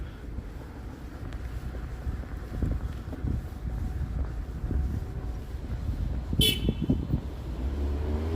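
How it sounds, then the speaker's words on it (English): Out on a chilly December day on Harbord Street in Toronto, a car horn gives a short honk late on, heard over wind buffeting the microphone and passing traffic rumble. "I don't know if they're honking at me or at somebody else."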